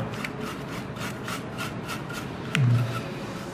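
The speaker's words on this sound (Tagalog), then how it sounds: "Ito pong lacquer cleaner, panglinis talaga ng mga PC parts, computer." PC video card parts being wiped with lacquer cleaner, a soft, repeated rubbing and scrubbing close up, with one brief louder knock near the end.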